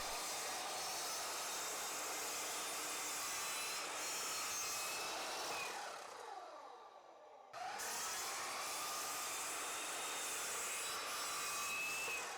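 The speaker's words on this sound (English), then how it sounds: "Sawdust goes everywhere and I do have to do a lot of cuts." Saw cutting wood pieces for a nightstand build, a loud continuous rasping cut that drops out briefly midway before resuming at full strength.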